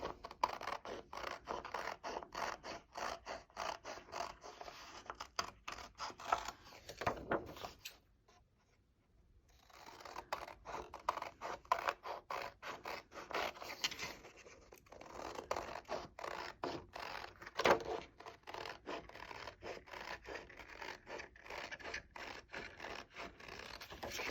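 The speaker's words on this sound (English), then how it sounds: "So I'm just going to cut along all of the solid lines." Scissors cutting along the lines of scored paper card for a butterfly pop-up card make a close, quiet run of rapid crisp snips and scratchy slices. There is one short pause partway through and no talk.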